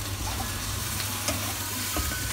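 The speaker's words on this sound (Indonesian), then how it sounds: "diaduk-aduk biar tercampur merata ya bumbunya" Spicy garlic chicken wings sizzling in a hot pan while being stirred to coat them in seasoning; a dense, steady frying hiss with faint scraping underneath, close and even, no voices.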